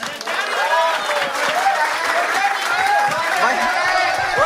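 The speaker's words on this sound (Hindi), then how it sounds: "भाई ताली बजाओ भाइयों के लिए।" A small group applauds indoors during a comedy episode, a dense clatter of clapping mixed with cheering and chatter, loud and close throughout.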